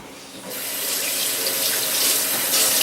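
Tap water runs steadily into a kitchen sink to rinse a spoon while stuffed peppers are being made, starting as a soft trickle and swelling into a full, continuous gush that holds for several seconds with no talking.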